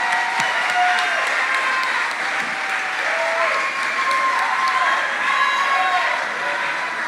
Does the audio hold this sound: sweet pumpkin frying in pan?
no